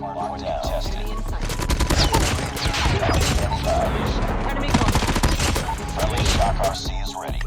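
AK-117 rifle fire in the mobile game Call of Duty Mobile: loud, rapid automatic bursts rattle almost continuously throughout.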